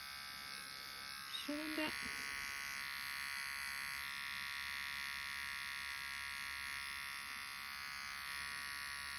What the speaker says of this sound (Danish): tag maskinen og få kørt godt rundt om trædepuden her, og få spredt tæerne. Og få klippet.